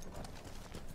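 Horse hooves clip-clop quickly and steadily in the video game Battlefield 1, mixed into dense, loud game noise.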